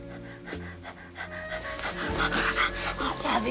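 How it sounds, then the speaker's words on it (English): Heavy panting from a dog, close and rhythmic, with quick breaths repeating steadily throughout and growing a little louder toward the end. "Heavy panting at the back of your neck."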